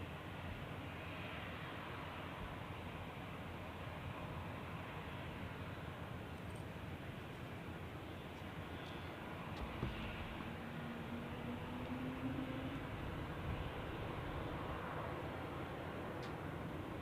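A jet airliner taxis at Zurich airport, heard as a distant, steady engine rumble and hiss through a continuous broadband wash of noise, with no sharp events.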